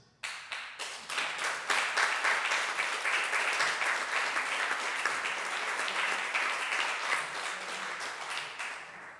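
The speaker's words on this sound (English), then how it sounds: "Don't clap too soon." Audience applause fills a hall after a talk at an activism event in Sydney, starting with a few scattered claps that quickly swell into dense, sustained clapping and then taper slightly toward the end.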